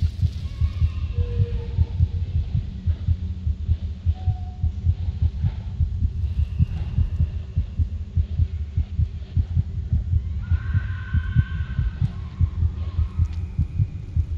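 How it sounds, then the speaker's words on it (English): Heartbeat in the horror video game Among the Sleep: a steady, deep, low throbbing pulse runs continuously under a dim ambient game hum, with faint higher tones drifting through. "Why is my heart beating in game?"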